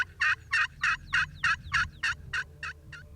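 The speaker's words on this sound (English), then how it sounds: "One just gobbled right there." A wild turkey gobbling during a turkey hunt, about ten rapid rhythmic gobble notes in a quick even series, clear and moderately near against a quiet outdoor background.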